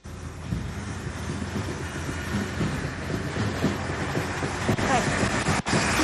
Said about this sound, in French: On assiste toujours au passage des rames.